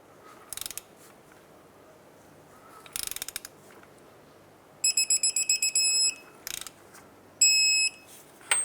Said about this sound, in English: let's torque it. Torque this to 67 foot-pounds